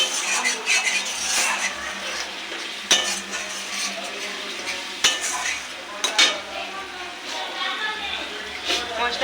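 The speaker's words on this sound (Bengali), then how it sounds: "মশলাটা ভালো করে কষাবো।" Masala sautéed in oil in a pan: a steady sizzle under close, repeated scraping and clinking of a spoon against the pan, with sharper knocks now and then, continuing throughout.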